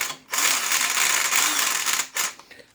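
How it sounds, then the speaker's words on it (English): A cordless drill snugging up bolts during a small-block Chevy 350 crankshaft installation whirs in a sustained burst, stops briefly, then gives a second short spin, loud and close. "since I have this cordless drill, I'm just going to snug them up"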